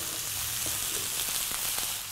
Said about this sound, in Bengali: আমরাও সেইভাবে পেঁয়াজ সটে একটু নরম করে নিলাম, তার মধ্যে দিয়ে দেবো এরকম খাসির মাংস।